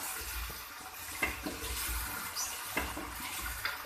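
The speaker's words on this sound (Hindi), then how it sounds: "हमारे सालन के पकने की आवाज़ आ रही है पूरे ज़ोर शोर में" A pot of achar gosht curry bubbles on the stove with soft, irregular pops and gurgles over a low simmering rumble, faint and close.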